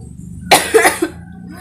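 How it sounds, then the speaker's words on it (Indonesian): One person gives a short burst of three or four harsh, close coughs, loud and clear after a near-silent start, fading back to quiet. "Kan lagi batuk beneran, jadi nggak curiga."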